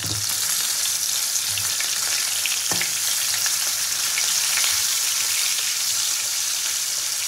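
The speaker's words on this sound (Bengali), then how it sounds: "তাও উল্টে পাল্টে লেজাগুলোকে খুব ভালো করে ভেজে নেব।" Hilsa fish tails fry in a pan with a loud, constant sizzle close up, broken by an occasional faint tap or scrape as the pieces are turned, with no talking.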